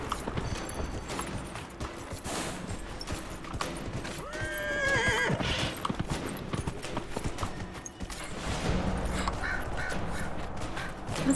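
A horse gallops with rapid clip-clop hoofbeats and lets out a loud whinny partway through, set inside a video game, with the hooves and game sounds continuing steadily throughout.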